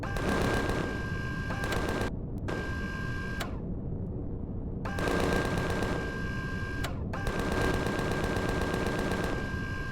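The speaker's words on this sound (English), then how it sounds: "it looks like we've actually got a turret" Turret gunfire in the space survival game Empyrion Galactic Survival comes as long rapid automatic bursts, loud and continuous, with two brief pauses between volleys.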